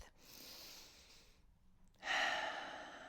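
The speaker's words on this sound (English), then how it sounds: "So let's take a deep breath." Slow deep breath taken during a calm yoga practice session, a long soft inhale followed by a pause, then a louder, airy exhale up close, with no talking.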